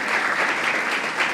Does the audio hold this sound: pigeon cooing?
no